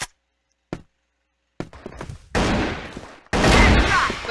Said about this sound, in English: With another headshot from Lyra